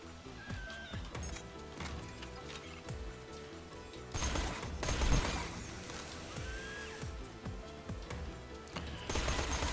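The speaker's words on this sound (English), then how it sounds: "This is really nice, this flame SMG for the Varkids." Flame SMG gunfire during a creature fight against Varkids in the Borderlands video game, with rapid bursts of shots, thumping impacts and busy game effects that grow louder in dense stretches mid-clip and near the end.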